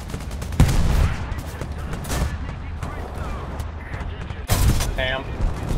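In War Thunder, a tank machine gun fires bursts at a tree, giving sharp rattling gunfire with a loud burst early and another near the end, amid battle noise and players talking over it.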